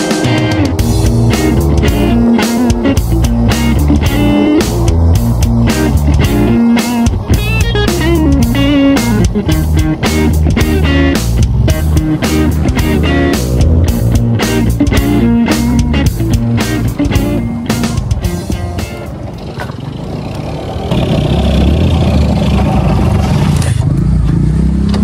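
Yamaha RS100 two-stroke motorcycle engine running loud and steady for a long stretch, with dense clattering, rapid regular firing pulses, and a brief dip near the end before it picks up again; no talk over it.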